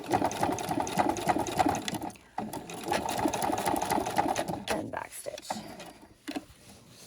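A sewing machine runs in steady bursts while stitching and reinforcing a seam on a backpack strap. It whirs continuously, stops briefly around the two-second mark, resumes, then breaks into shorter, choppier runs near the end.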